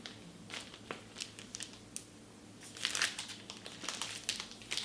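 Paper instruction manual from a Sennheiser HD 820 headphone box handled up close, giving irregular crinkles and rustles that grow busier toward the end.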